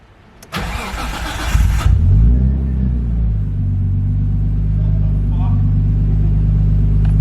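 An R33 Skyline's turbo engine on a dyno cranks briefly, catches and roars to life, then settles into a loud, steady idle rumble, with voices reacting in the background.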